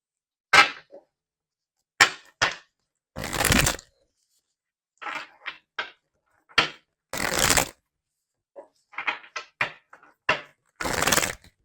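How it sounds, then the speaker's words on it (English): Tarot cards are shuffled in short, riffling bursts that come in sharp flurries with silent gaps between them, close and crisp, with no voice. "let's get some more cards to see more of what's going on here."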